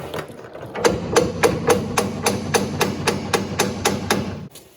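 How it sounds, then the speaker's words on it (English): A hammer strikes parts of a Ford Foxbody 8.8 rear axle being assembled, landing about a dozen sharp metallic blows in a steady, fairly quick rhythm, loud and close, with a clattering ring after each hit. "You just smack the hammer."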